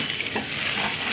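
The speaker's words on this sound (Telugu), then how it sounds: "మిక్స్ చేసుకుందాం. ఊరికి ఒక 2 మినిట్స్ దీన్ని ఇలాగే ఫ్రై చేసుకోవాలి." Egg, spinach and masala fry and get stirred in a pan, giving a steady close sizzle with scraping stirs throughout and no talking.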